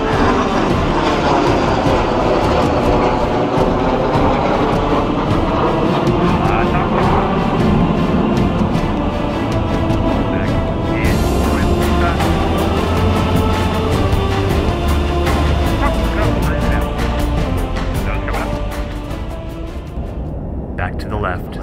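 An L-39 jet roars loudly past in a DCS World air show flying display, a sustained engine rumble and whoosh that stays strong for most of the pass before easing at the end, with a voice talking over it.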